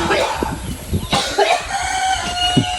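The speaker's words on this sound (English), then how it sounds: "the chicken crossed the road" A chicken in a rural Philippine province gives a few short, close clucks and squawks amid outdoor background noise.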